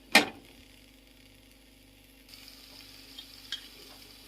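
Chicken filling mixed with coriander and parsley fries in a pan, giving a low, steady sizzle after a sharp utensil clank at the start, with a few soft stirring knocks later on.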